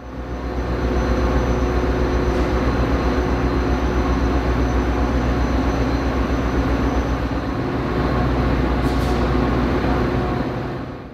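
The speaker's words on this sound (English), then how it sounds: "Now arriving, train 1228 is in Aurora to Downers Grove Outer Suburbs Express" Metra commuter train 1228 rolls steadily into Aurora station on the BNSF line, a loud continuous rumble of wheels and engine with a couple of faint high squeals.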